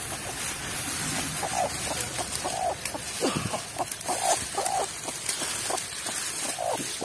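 Hen clucking with chicks peeping at a nest in brush where fifteen chicks hatched, a steady run of short close calls over light outdoor background noise.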